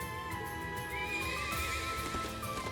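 A horse gives a loud, close whinny within Trails into Reverie, the neigh wavering over a steady game soundtrack, with a few hoof clip-clops underneath.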